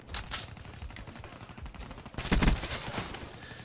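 Automatic gunfire from the FFAR rifle in the shooter Black Ops 3 rattles out in rapid bursts, the second louder and denser than the first, over a busy game soundscape.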